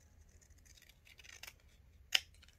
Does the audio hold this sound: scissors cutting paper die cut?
yes